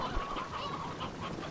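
Farm fowl in the video game Slime Rancher 2 give repeated honking, squawking calls at a steady, moderately loud level throughout the short stretch, with no talking.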